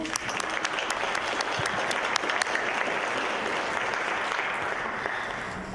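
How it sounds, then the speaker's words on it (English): An audience at an investment conference competition applauds two people called onto the stage: a dense, steady wash of clapping from a crowd, moderately loud and continuous throughout. "we'll get a little round of applause for you"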